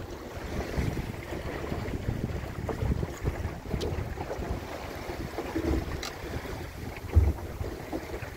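Wind rushing steadily past a small sailing dinghy cruising at around 5.5 knots among waves, with a constant broadband roar of wind and water and a few brief knocks and splashes, no voices.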